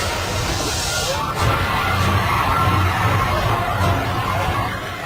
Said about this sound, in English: Look, the crowd is arriving.